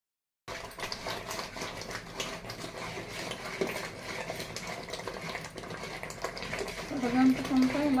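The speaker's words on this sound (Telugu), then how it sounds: "అరగంటకుంటే ఇలా కలుపుతూ ఉండాలి." Tomato and tamarind chutney is stirred in a pan, a steady scraping and clinking of a spoon against metal that runs continuously under a speaking voice.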